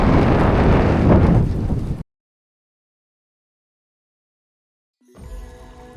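Strong wind on a mountain roars and buffets the microphone for about two seconds, then drops to silence before a low rumbling gust returns.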